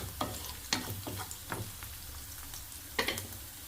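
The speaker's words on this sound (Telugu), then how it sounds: "పచ్చిమిరపకాయలు, ఉల్లిపాయలు కూడా బాగా రోస్ట్ అయిపోయినాయి కాబట్టి కొంచెం కరివేపాకు వేసేసుకుందాం" Green chillies, onions and curry leaves frying in a pan, a steady soft sizzle broken by several sharp scraping clicks as a spoon stirs them, fairly close and without voices.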